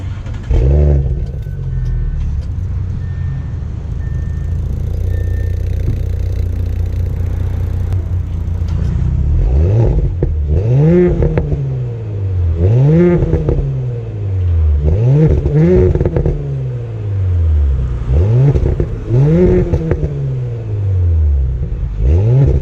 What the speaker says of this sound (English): So what did you guys think about that exhaust clip? Sounded pretty good from inside of the car.